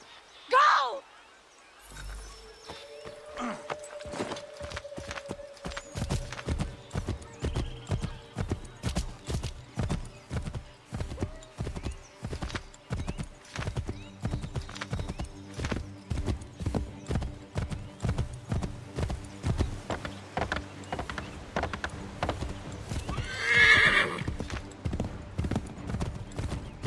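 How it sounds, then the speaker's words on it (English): A horse gallops in Assassin's Creed III, its hooves clip-clopping in a steady, rapid rhythm that runs throughout, with a brief whinny near the end and game dialogue over it. "Take my horse! Bring him here!"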